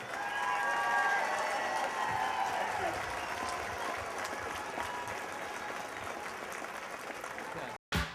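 An audience at a retirement party for Rick Shaw gives warm, sustained applause that continues evenly before cutting off abruptly.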